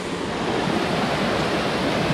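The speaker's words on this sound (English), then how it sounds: "this is the second waterfall. It's moving pretty good." A waterfall on the Franconia Ridge trail, running strong, gives a loud, steady broadband rush of falling water with no break across the whole stretch.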